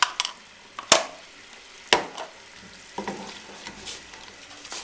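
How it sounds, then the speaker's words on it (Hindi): A spoon stirs and roasts spices, dry coriander and salt among them, in a hot pan for an Aalu Moongray dish, giving sharp scraping clanks at regular intervals over a steady soft sizzle. "अब चमचे की मदद से इसको अच्छी तरह मिक्स कर लें और अच्छी तरह मसाले को भून लें।"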